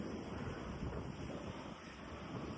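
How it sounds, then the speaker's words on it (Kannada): Strong wind rushes hard and steadily across a hilltop by the Tungabhadra river, a dense, unbroken roar buffeting close to the microphone with no voices. "ಸೌಂಡ್ ನೋಡ್ರಿ ಯಾವ ತರ ಕೇಳ್ತಾ ಇಲ್ಲಿ ಅತಿಯಾದ ಗಾಳಿ"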